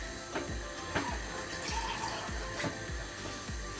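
A drop of water goes into a pan of caramel sauce made with sugar and butter, giving faint splashing and trickling with a few soft repeated clicks and knocks, quiet and with no talk.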